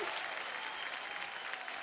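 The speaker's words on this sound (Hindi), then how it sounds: "तालियां तालियां तालियां बनती हैं" Applause from a large crowd at the Bhojpuri International Award show, a dense wash of distant clapping that stays even and continuous, quiet overall.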